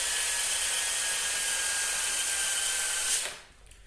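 A cordless drill spins a cylinder hone inside an engine block, a steady high whine with a slight rasp that cuts off abruptly near the end.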